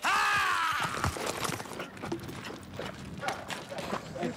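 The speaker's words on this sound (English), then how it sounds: "We got the horse to move a little bit that time." Horse hooves clip-clopping on a film set, a few irregular knocks following a loud opening burst, with background voices and noise around them.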